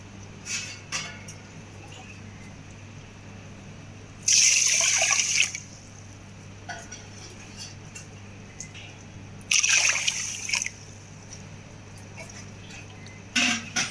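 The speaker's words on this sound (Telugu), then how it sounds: "సో ఇప్పుడు మామూలు వాటర్, మంచి వాటర్ వేసుకుందాము." Plain water is poured into a pot of rice for washing in a home kitchen, two loud splashing bursts and a third starting at the end, separated by quieter trickling and handling noises.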